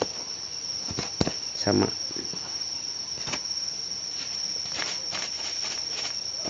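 Crickets on a cricket farm kept in egg trays give a steady, high, continuous chirring. Someone talks briefly over it, with a few soft handling knocks and bumps.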